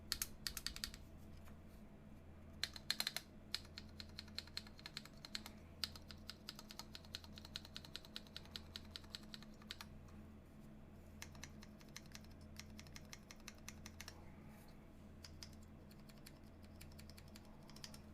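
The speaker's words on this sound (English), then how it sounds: "Stabilizers all sound great, thankfully. And the tight plate doesn't seem to be hindering the performance at all." Quiet, close typing on a tenkeyless mechanical keyboard with Holy Panda switches, a tight plate and a 7U spacebar: rapid, irregular clacks in bursts with brief pauses, soft and unaccompanied by any voice.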